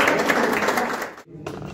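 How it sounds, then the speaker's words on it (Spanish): An audience applauds at a ceremony naming an honorary association member, with a full round of clapping that cuts off abruptly near the end and leaves a faint, quieter patter. "Pero pues un aplauso más"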